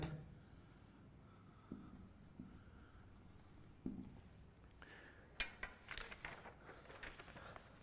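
A pen drawing lines on paper, with soft scratchy strokes that come in short bursts and grow louder toward the end, quiet and close with no talking.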